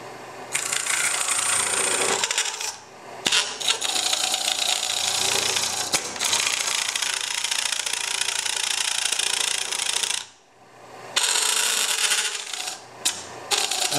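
A 3/8 inch gouge scrapes wood on a lathe while a hollow sphere is turned, a loud close hiss broken by short pauses where the tool lifts off.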